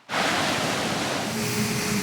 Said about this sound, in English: The Pacific Ocean, an almost unlimited supply of water that you can't drink.